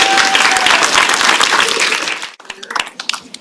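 An audience at a student communications showcase bursts into loud, dense applause that fills the room, then thins out into scattered claps as it fades.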